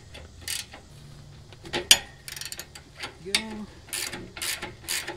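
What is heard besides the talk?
double wrench loosening a leaf spring nut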